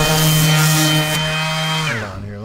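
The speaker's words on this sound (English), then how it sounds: "I've never been around a cordless that I could sand around like this" A Bosch cordless orbital sander runs loudly up close in one brief continuous whir, its pitch dropping as it winds down at the end, with no talk.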